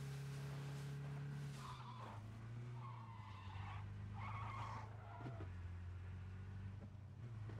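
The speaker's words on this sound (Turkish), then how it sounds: "Nereden araba duyuyorum lan ben?" A car in the video game PUBG skids, its tires squealing in several bursts over a steady, loud engine drone that holds throughout.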